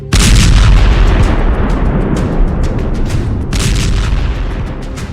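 Heavy, loud explosions from Israeli airstrikes in southern Lebanon and the Bekaa Valley: a sudden deep boom followed by a rumbling blast roar, with a second burst of crackling impacts near the end.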